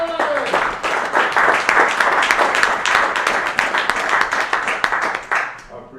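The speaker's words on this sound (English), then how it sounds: "Let's give a round of applause for Mr." Audience applause at a live business talk event, dense clapping that fills the room steadily for several seconds and fades out at the end, with some crowd voices mixed in.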